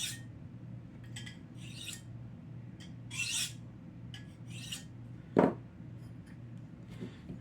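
A blade dragged through the 25- and 35-degree carbide tips of a handy pocket sharpener, giving several short raspy scrapes in a quiet room and one sharper, louder stroke near the end.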